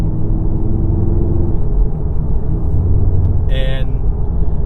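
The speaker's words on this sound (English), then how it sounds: "Road noise is acceptable for a car of this caliber." Inside a 2017 VW Golf R manual on Continental ContiSportContact tires, a steady loud low road rumble and tire drone carry through, with a brief higher squeak near the end.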